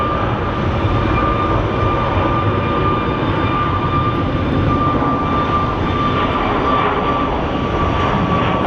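A jet airliner roars at Phoenix Sky Harbor Airport, a loud, sustained, broadband engine rumble with a thin steady whine held throughout, heard alone without voices.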